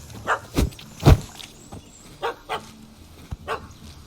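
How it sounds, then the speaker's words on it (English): A yappy little dog in The Witcher 3 barks in a series of short, sharp yips, several spaced bursts with a couple of louder close ones, alone without talk. "Don't know how to handle yappy little dogs?"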